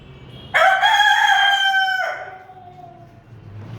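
A rooster on a small home poultry farm where the hens have been laying gives one loud, close crow of about a second and a half, then fades into quiet farmyard background.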